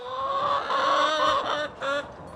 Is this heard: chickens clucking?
yes